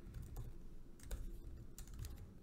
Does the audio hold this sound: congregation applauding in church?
no